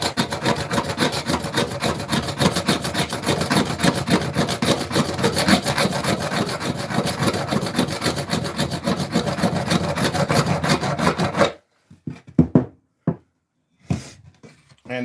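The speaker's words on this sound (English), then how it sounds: "I'm actually getting very good results with the scraper." Hand scraper stripping old paint from a wooden chair, rapid rhythmic rasping strokes close and loud for about eleven seconds, then stopping, followed by a few scattered knocks and scrapes.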